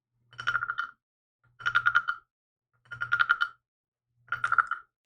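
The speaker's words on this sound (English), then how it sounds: "I wonder if they can hear this frog and they just think there's like a frog" Wooden frog ASMR trigger scraped in four evenly spaced ribbed croaks, each a short rattling burst, close and clear against silence.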